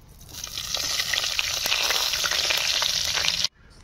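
Oil sizzles and crackles steadily in a wok while eggs are fried for a Bengali egg curry, a loud continuous hiss with small pops, close up, ending abruptly near the close.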